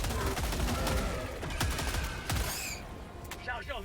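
Sustained BR-14 rifle fire in Helldivers 2 rattles in dense overlapping bursts against a guardian. It stays loud and busy for several seconds, then thins into scattered shots with chirpy electronic game effects near the end.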